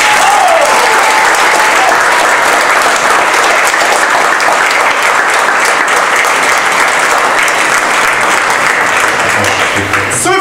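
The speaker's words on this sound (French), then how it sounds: "Je voudrais que vous applaudissiez particulièrement Florian." Theatre audience applauding performers during curtain-call bows, a long, loud and even roar of many hands clapping that continues unbroken for ten seconds, with faint voices mixed in at the start.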